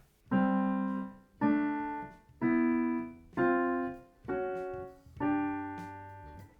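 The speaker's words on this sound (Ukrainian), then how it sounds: "Наступний чистий інтервал це кварта." Six perfect-fourth two-note chords struck one after another on a piano-like instrument, each ringing and fading before the next, with no voices.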